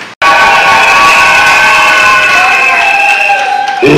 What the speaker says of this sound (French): je vous demande d'applaudir encore une fois